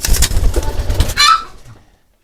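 Domestic pigeons kept by a farmer coo and rustle close by for about a second and a half before the sound drops away to silence.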